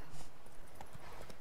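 Horse hooves clip-clop in a few quick, light beats while riding in the video game The Witcher 3.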